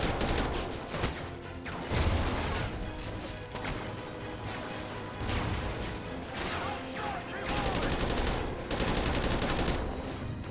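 Rapid gunfire from an assault rifle in the Call of Duty Ghosts campaign, with repeated loud bursts and crashes layered over game music and effects, continuing densely throughout.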